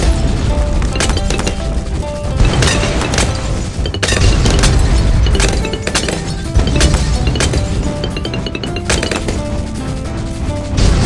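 A fire bomb blast in Bloons TD 6 sounds over dense, loud game audio, with crashes, booms and crackling impacts piled up constantly.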